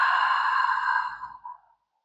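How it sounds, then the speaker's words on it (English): A long, slow exhalation through the mouth during restorative yoga breathing, one soft breathy release that trails off and fades into silence by the end. "that sound of the breathing on the exhalation really helps to relax the nervous system"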